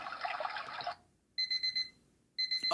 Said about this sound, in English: Oh no, no alarm clock sounds for me.